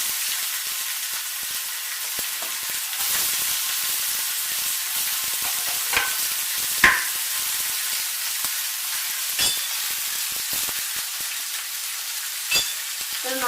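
Ginger, green chili and onion fry in a pan for an egg masala dosa, a steady sizzling hiss broken by occasional scraping stirs and small pops, close and alone.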